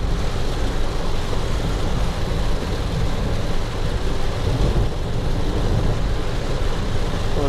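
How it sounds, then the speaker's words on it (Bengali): Heavy rain during a road trip on the NH-16 highway, a loud, steady roaring wash of water drumming on a moving vehicle, continuous and unbroken with no talk. "জোর বৃষ্টি হচ্ছে কিন্তু।"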